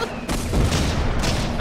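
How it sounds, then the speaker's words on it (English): A grenade goes off in the war game Hidden & Dangerous 2 with a loud, close, booming burst. A second blast follows amid rumbling gunfire-like noise. "He threw a grenade at me, bro!"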